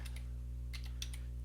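A short run of keystrokes is typed on a computer keyboard, entering a number. The clicks are light and close, over a steady low electrical hum.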